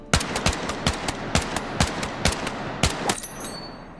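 Automatic gunfire rattles out in quick bursts and single cracks in Battlefield 6, moderately loud over a constant background rumble, with shots spaced unevenly across a few seconds before tapering off.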